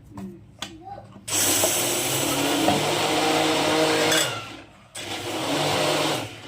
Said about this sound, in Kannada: ದೊಡ್ಡ ಮಿಕ್ಸಿ ಐತೆ